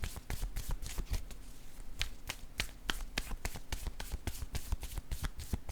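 A deck of tarot cards being handled and shuffled, with rapid rhythmic riffles and taps running steadily close by, fairly quiet and with no voices.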